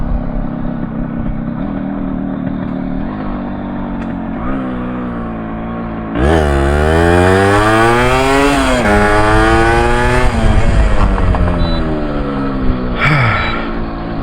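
Two-stroke classic motorcycle, ridden by a rider over 100 kilos, pulls hard: a loud, raspy engine note that jumps sharply partway through and climbs steeply in pitch through several rising sweeps, recorded up close with wind rush.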